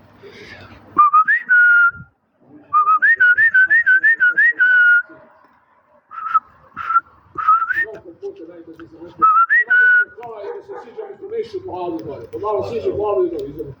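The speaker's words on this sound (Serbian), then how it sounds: "Pa uvek kad hranim, zviždim." A person whistles in short warbling bursts several times with pauses between to call pigeons at night, followed by people talking nearby.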